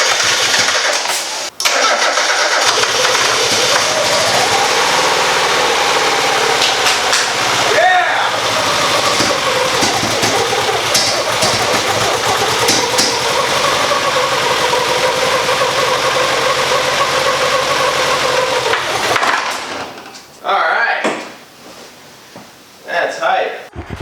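An NA Mazda Miata engine cranks and catches after restoration, then runs roughly at a loud, uneven idle for about twenty seconds before cutting out, with excited voices under and after it.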